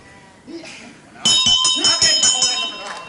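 A wrestling match bell rings loudly and repeatedly at the end of a round on a televised bout, the clangs ringing on over a commentator's voice and crowd noise.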